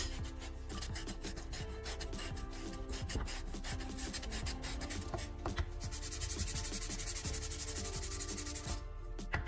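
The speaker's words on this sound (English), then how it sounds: "Pick up sandpaper and smooth the outer edges of both wheels." Sandpaper rubs steadily over the outer edges of round wooden wheels, a continuous dry rasping with quick back-and-forth strokes, close and fairly quiet, with no talking.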